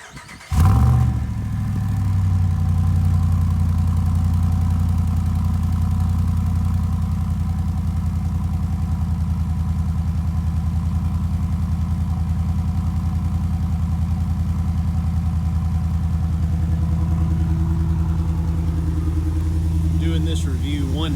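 A 2019 Ram Rebel 1500 with a Carven cat-back exhaust starts up and settles into a steady, deep idle rumble that holds evenly for about twenty seconds.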